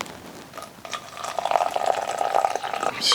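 Hot water is poured into a cup to make coffee at an outdoor campfire, a steady close liquid stream that rises in pitch as the cup fills, with no voices.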